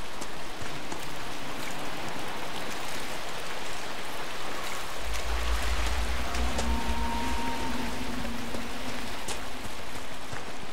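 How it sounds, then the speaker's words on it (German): Rain falls in the fantasy video game Dragon Age Inquisition, a steady soft hiss of drops with scattered patters, accompanied by a brief low rumble and faint tonal game sounds partway through; no one talks. "wird der Regen hier hinten stärker oder kommt mir das nur so vor?"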